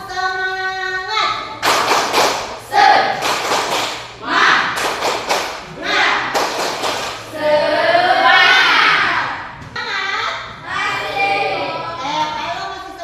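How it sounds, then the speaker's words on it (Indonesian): A classroom of Indonesian children performs a rhythmic spirit clap, quick patterned bursts of many hands striking in unison, mixed with lively young voices chanting and calling out together nearby. "Tepuk semangat"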